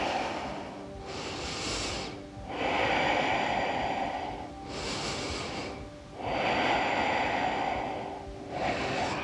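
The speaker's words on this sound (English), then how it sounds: "Take 3 deep breaths." Slow deep breaths during seated chair yoga, each a long airy inhale or exhale in a steady rhythm of about four, close and soft with no talking.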